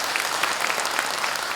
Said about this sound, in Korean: 군대 가는 거는 박수 치셔도 됩니다.